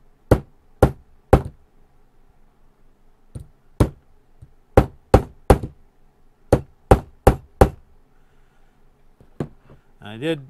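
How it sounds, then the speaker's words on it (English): A hammer taps a leather belt in sharp, distinct taps, single and in quick groups of three, close and crisp with quiet gaps between. "now I'm going to take my hammer and just give it a few tap, tap, tappies"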